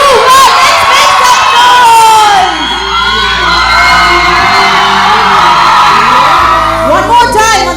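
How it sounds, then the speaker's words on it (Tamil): A studio audience at a Tamil television show shouts, whoops and cheers loudly to welcome a guest, a sustained roar of mixed voices with a brief dip midway. "நீங்க கைத்தட்டல் பயங்கரமா கத்தி மாசா ஒரு சவுண்ட் கொடுத்தீங்கன்னா ஆட்டோமேட்டிக்கா அந்த கெஸ்ட் வருவாங்க"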